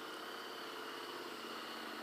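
A motorcycle idles as it warms up, giving a faint, steady mechanical hum with an even pulse and no speech over it.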